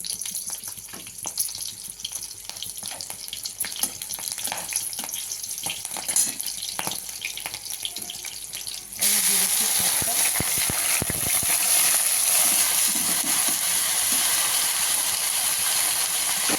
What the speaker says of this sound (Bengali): তেল গরম হয়ে গেছে দিয়ে দিলাম কাঁচা লঙ্কা